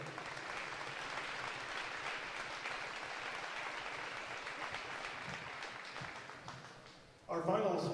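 Crowd applause for a cheerleader at a varsity basketball game, sustained clapping filling a gym for several seconds before fading, then a voice on the public address system.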